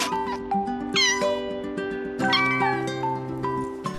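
Kittens meow repeatedly in a VR cat sandbox game, several bright overlapping cries over a steady background of game music.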